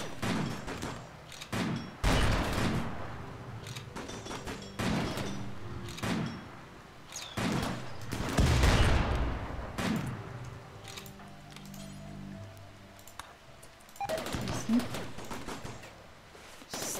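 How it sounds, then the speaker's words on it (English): Bursts of gunfire and impacts in the colony-management game Rimworld, loud and repeated through a chaotic battle, with excited talk over the shooting. "Stop shooting a dead man!"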